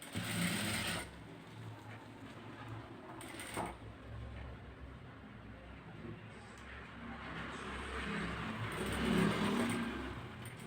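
Sewing machine stitching the back neck of a blouse runs almost continuously, a close mechanical whir and rattle that shifts slightly in pace, with a couple of brief sharper clicks along the way.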